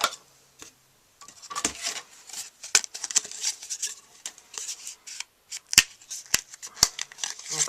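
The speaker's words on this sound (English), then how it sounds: "I'm just going to cut this right here to get those 2 flowers." Scissors snip through cardstock to cut out paper flowers for a handmade card, a string of crisp close cuts and rustling paper handling with short quiet gaps between bursts.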